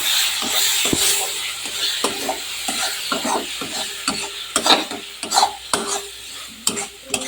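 A spatula stirs masala paste frying in a pan for a pointed gourd and prawn curry, irregular scraping knocks and clinks over a soft continuous sizzle, close and fairly loud.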